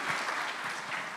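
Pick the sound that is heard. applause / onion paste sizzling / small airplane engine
applause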